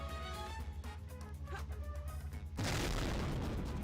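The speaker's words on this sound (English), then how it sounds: "I just heard a random explosion." A meteor explodes in the Sonic Adventure 2 video game, a sudden loud burst of broadband noise that cuts in over the steady game music and carries on as a sustained roar to the end.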